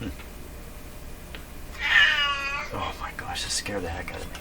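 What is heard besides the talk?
pet cat meowing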